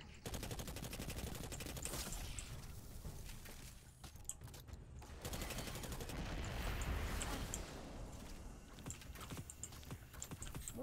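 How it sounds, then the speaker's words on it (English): Rapid gunfire shooting at the player in the video game Spacegrind, dense bursts of automatic shots rattling almost continuously over a rumbling background, fairly loud and close. "Who the hell is shooting me?"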